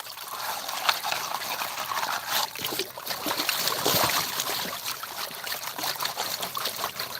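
Water trickles and splashes steadily through a Garrett Super Sluice during gold panning in Dahlonega, Georgia, a continuous close babble with no talking.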